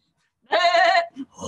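During a told folk tale from Poland, a voice imitates a sheep with a single loud, wavering bleat lasting about half a second, followed by a brief softer sound.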